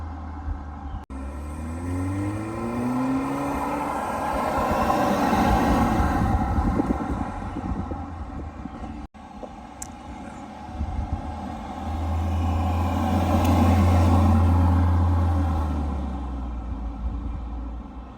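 The engine of a base-model 2025 Porsche Macan while driving with the sunroof open, a continuous rumbling hum that swells louder twice as it accelerates.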